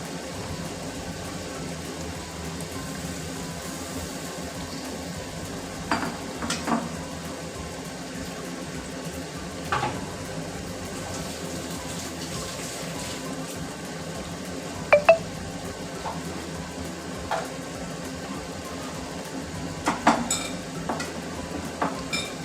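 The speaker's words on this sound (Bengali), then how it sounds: "এইভাবেই নেড়ে চেড়ে ভালো করে কষিয়ে নিতে হবে" Mutton curry is stirred and fried over a full gas flame, giving a steady sizzle throughout. Scattered spoon scrapes and clinks against the pot punctuate it at close range.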